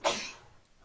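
A single short, sharp sneeze bursts out close by during an indoor lecture, then trails off quickly into silence.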